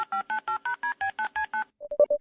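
Phone dialing tones in the video game Your Boyfriend Game: about nine evenly spaced keypad beeps, then a short run of ringing or connecting tones with no talk.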